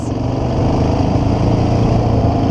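A quad bike's engine runs steadily and close by while it pulls away in second gear, giving a continuous mid-pitched drone with a slight rise in revs.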